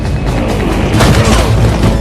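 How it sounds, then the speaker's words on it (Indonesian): A small homemade bomb built from a mouse trap goes off in an action film, a loud, close boom followed by a dense rumbling, crackling burst. "dia menggunakan jebakan tikus untuk membuat sebuah peledak kecil"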